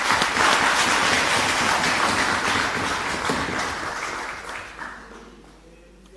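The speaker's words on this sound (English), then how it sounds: "We need to clap for all these people." An audience applauds local Zambian musicians at a meeting with the president, a loud dense clapping that holds steady, then thins and fades out over several seconds.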